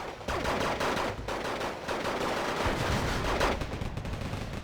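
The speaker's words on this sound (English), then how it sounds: "Machine gun fire back and forth, getting like zooming in." Rapid machine gun fire from the Wargame Red Dragon battle, with dense overlapping bursts trading back and forth, loud and continuous throughout with no speech.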